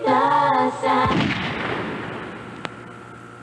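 A loud, close gunshot-like boom in a public service announcement about gun violence, following a brief sustained tone, then a long decaying rumble and a faint sharp click near the end, with no voices.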